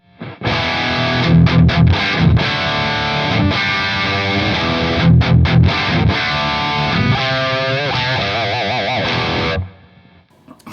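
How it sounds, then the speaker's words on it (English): Heavily distorted electric guitar through a heavy distortion pedal and a REVV D25 Joey Landreth Edition amplifier chugs through chords with palm-muted stabs and ringing notes, loud and close, then stops abruptly. "Heavy distortion pedal"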